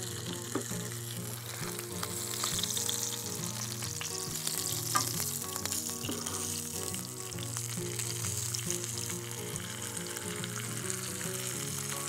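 Carp fillet fries skin side down in a pan, giving a steady, close sizzle and crackle with occasional stirring clicks throughout, with no voices.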